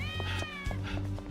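A cat meows in the game Yakuza 6, giving a loud, close series of drawn-out, wavering mews with short pulses in between, with no talking over it.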